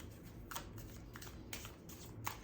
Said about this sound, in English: Shuffles really smoothly.